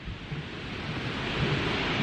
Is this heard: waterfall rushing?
yes